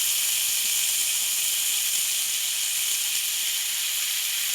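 Steady loud sizzle and hiss from chopped onion dropped into hot oil with frying figs in a pan, continuous and close with no talking.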